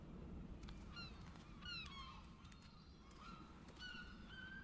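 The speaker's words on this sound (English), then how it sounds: "I like how you can hear the seagulls outside." Seagulls outside in the RiMe video game give several short, rising cries over a steady, rushing background wash, with no voices present.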